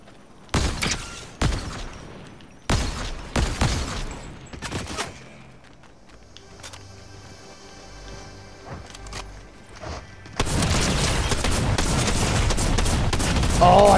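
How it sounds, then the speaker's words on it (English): Shotgun fight in Fortnite: a handful of loud, sharp blasts spaced about a second apart, then quieter mechanical clatter and faint shots, ending in a long, dense burst of heavy firing. "I tried to get in a shotgun fight"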